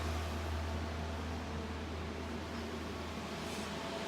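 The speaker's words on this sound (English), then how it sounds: "I got commercial, smallest commercial size fan I could find, sucking out the air to the outside." A small commercial-size fan pulls air out of a server-style cryptocurrency mining rig box, producing a steady, even whoosh with a low hum that holds unchanged throughout.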